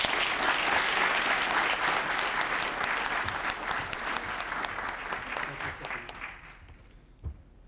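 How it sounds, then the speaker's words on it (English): An audience at a 2019 mealybug and virus outreach meeting claps for a panel, a sustained round of applause that tapers off, followed by a short thump. "let's give a round of applause for our great panel."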